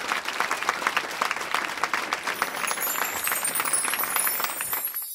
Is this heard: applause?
yes